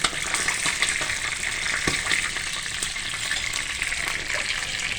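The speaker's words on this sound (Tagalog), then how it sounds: "Ang lagsik ang mantika, guys." Hot oil sizzles and spatters steadily around fish frying in a pan, a dense continuous crackle with occasional sharper pops, close by and without talk.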